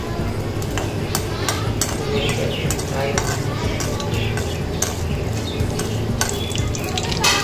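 Mustard seeds and urad dal (about 1.5 spoons) frying in hot oil for drumstick gravy, a continuous sizzle with sharp popping crackles and occasional scrapes of a spoon against the pan.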